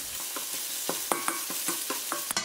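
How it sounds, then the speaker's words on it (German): Eggs are stirred and chopped with a spatula in a hot wok, with a steady sizzle under a series of sharp, rhythmic scrapes and taps. "Danach Eier mit einer Spatel rühren und einschneiden"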